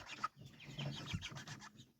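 Young chickens cluck and peep softly nearby inside a shed, with light scratching and rustling between the calls.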